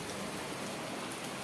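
Steady rain falls continuously at a home, a dense, even hiss of drops with no voices over it.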